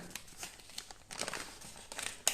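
Crinkly rustling of a plastic surprise packet holding natural handmade soap as it is opened up close, with irregular crackling bursts that pick up in the second half and end on a sharper crackle.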